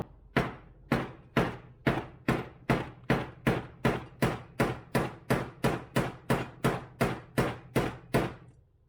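Steady, evenly spaced hammer blows drive a tool onto the metal jet tube of a Zenith Stromberg 175 carburettor, around two per second, each a sharp ringing tap with a brief decay, close and loud, no talking.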